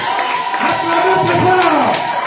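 A church congregation erupts in acclamation, loud overlapping cheers and shouts filling the room, with sustained voices rising and falling throughout.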